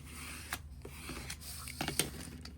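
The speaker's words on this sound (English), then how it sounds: "we're gonna burnish that really well" A paper cover on a journal is burnished with short, dry rubbing and scraping strokes, close and fairly quiet, in irregular bursts over a faint background hum.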